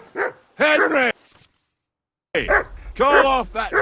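A dog barks in the medieval role-playing game Kingdom Come: Deliverance II, its short bursts mixed in with voices talking before and after a brief silent gap.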